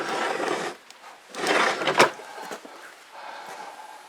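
Metal tool drawers holding sockets slide open and shut in a tool shed, with several rolling, scraping runs and a sharp clack near the middle, close and fairly loud.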